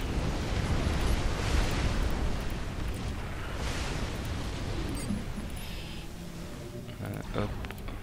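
Artillery bombards a position in the real-time strategy game Supreme Commander. A dense, continuous rumble of booming blasts rolls on and slowly thins out toward the end.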